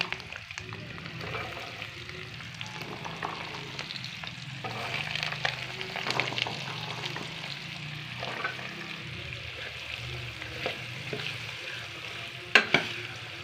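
Ginger sizzling and frying in hot oil for ginger pickle, a steady close crackle with occasional stirring clinks and a sharper knock near the end, no talking.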